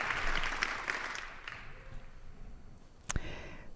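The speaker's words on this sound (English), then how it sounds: "Please give them a welcome applause." Audience applause welcoming volunteers at a hacker congress talk, a moderate burst of clapping that fades away over a couple of seconds, followed by a sharp knock or bump near the end.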